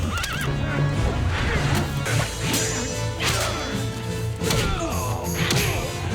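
A horse whinnies in a dramatic TV fight scene, the neighs mixed with crashes, whip-like cracks and background music, loud and busy throughout.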